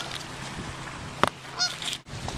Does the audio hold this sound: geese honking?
yes